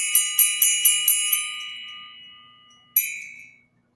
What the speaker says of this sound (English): Y'all, that's a sleigh bell.